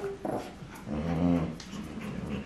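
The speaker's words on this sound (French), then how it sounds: "Ils sont toujours là. Les chiens féroces." Dogs growl and grumble while playing indoors, one rough growl swelling in the middle between whimpers and yips, close and fairly loud.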